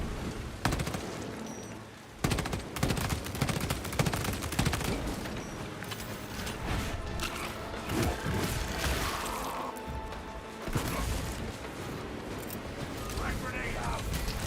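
Sustained video-game gunfire volley, dense rattling bursts and blasts that run almost continuously and fairly loud across a long stretch, layered with game voices and other battle noise.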